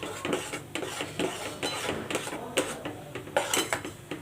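Repeated scraping clinks of a spoon against a metal pot of fruit purée on the stove, steady and fairly close, with no voices.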